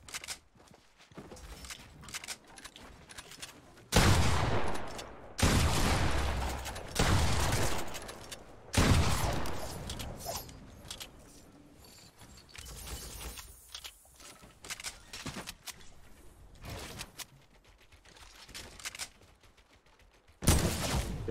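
Gunfire in a Fortnite solo match, several loud sharp bursts and scattered shots at varying distances mixed with busy game sounds and movement, with no talking.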